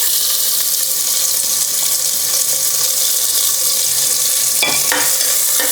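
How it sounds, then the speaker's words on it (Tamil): Small chopped onions sautéing with spices in a pan for a goat intestine gravy, giving a loud, steady, close sizzling hiss throughout, with a brief clink near the end. "சின்ன வெங்காயம் நல்லா வதங்கி வரட்டுங்க."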